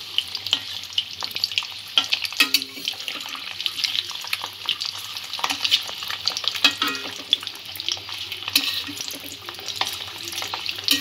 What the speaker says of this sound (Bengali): ডিমের দুদিকে আমি হালকা করে ভেজে নেব।